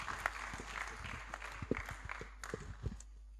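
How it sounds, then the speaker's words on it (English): Audience at a preparatory school graduation ceremony applauding the graduates, scattered moderately distant claps with some shuffling, fairly faint and thin rather than a full roar. "Give the graduates a round of applause."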